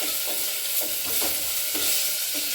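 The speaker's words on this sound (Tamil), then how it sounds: "இந்த கொத்தமல்லியும் போட்டுக்கலாம் லைட்டாக வதக்கி விட்டுருவோம்" Coriander leaves are lightly sautéed in a pan for tiffin sambar, with a loud, continuous hissing sizzle and soft, regular stirring strokes close up.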